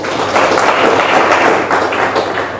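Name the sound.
audience applause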